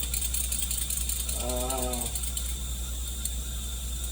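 A new governor gear on a transmission spins freely, making one brief whirring, ratcheting rattle about half a second long over a steady background hum.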